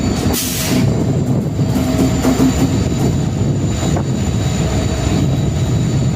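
Inside the Rameswaram–Velankanni train as it rolls toward the Pamban bridge, a loud, steady roar of wheels on rail and swaying carriages fills the coach, with soft rhythmic clatter and no voices.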